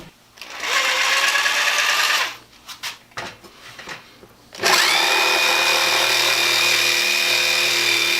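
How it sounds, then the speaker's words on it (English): A Skil Classic 4395 jigsaw, a 3.2-amp corded model, runs with a steady whine for about two seconds, stops amid brief clattering, then starts again and keeps running loud to the end. "This saw cuts about like every other jigsaw that I've got."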